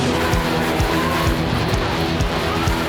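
Racing car engine roaring loud and steady with tyres skidding, repeated low sweeping engine passes across three seconds at close range.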